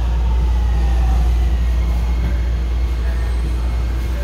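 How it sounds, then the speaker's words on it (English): Miami Metrorail train on the Dadeland North to Government Center line, one of the new Hitachi trains, passing by a station: a loud, steady low rumble and whine filling the scene, close and continuous. "And another train."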